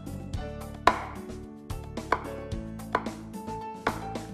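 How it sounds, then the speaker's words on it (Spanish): Butter being chopped into small cubes on a cutting board for a shortcrust pastry dough, with a knife striking the board in a series of sharp, close chops at an irregular pace. "estoy trozando, estoy picando en cubitos"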